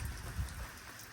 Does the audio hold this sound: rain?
yes